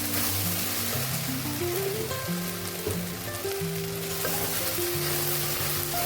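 Okra fries with turmeric in a hot pan, a steady close sizzle running throughout under layered tonal kitchen hum, with no voices.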